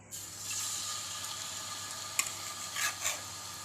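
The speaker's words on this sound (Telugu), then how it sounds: "కాగిన తర్వాత ఒక్కొక్క ఫిష్ ముక్క మంచిగా వేయించుకుందాం." Marinated fish pieces frying in hot oil, a steady moderate sizzle with a couple of sharper crackles and spatters toward the end, no one talking.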